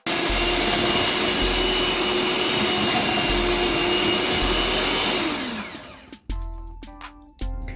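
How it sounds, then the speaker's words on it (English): Electric hand mixer whirring steadily through wet chocolate chip cookie ingredients in a bowl, a loud continuous drone that winds down near the end, followed by a few clinks and knocks. "If required, take parents' help when using electric mixer."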